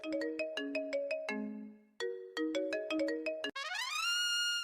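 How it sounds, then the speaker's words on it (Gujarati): A phone ringtone plays loud and clear: a bright repeating melodic chime in two phrases, followed by a rising tonal sweep, with no talking over it. "જો તો ફોન આવ્યો કોણ છે"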